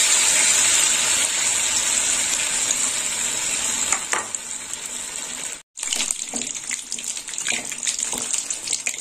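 Cabbage pieces frying in hot oil, a steady hissing sizzle that runs loud and continuous, breaks off for a moment near the middle, then resumes with small crackles.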